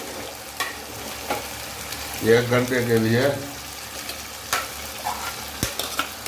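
Soaked dalia and lentils stirred and frying in oil in a pan, a steady sizzle with scraping stirs, while someone talks over it for a couple of seconds.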